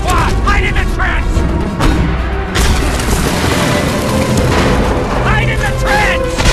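Dense battlefield din from a Hollywood war film, with booming explosions and gunfire rolling continuously, loud and close, while shouted voices sit within the chaos.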